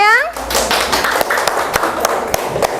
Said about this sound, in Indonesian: Tepuk tangannya mana sayang?